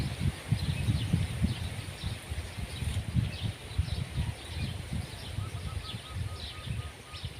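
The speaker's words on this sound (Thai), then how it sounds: "วันนี้ลมแรงมากเลยดอกฝ้ายบาน" Strong wind blows through a field of flowering cotton plants, a steady low buffeting rumble with leafy rustling and a few faint bird chirps on top.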